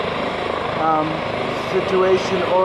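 A helicopter at the scene of a hostage situation, picking up victims as a life flight, drones steadily in the background while a person talks over it.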